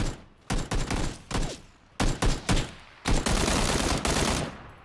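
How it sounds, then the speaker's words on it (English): Gunfire in PUBG comes as several bursts of close, loud shots. Short rapid volleys are followed by a longer sustained stream of fire, separated by brief gaps. "Oh no, I'm being shot at again."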